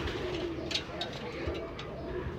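A male beauty pigeon at a wholesale pigeon market cooing softly in low repeated calls, under a murmur of background voices and faint clicks.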